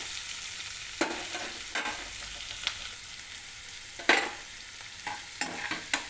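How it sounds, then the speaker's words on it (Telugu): Onions softening in a hot pan, a steady low sizzle running throughout with several sharp scraping stirs of a spoon at irregular intervals, close and fairly quiet with no voices. "కొంచెం సేపు ఉల్లిపాయలు మెత్తబడేంత వరకు కొంచెం సేపు ఉడకనివ్వాలి"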